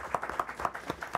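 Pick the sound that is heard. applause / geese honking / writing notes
applause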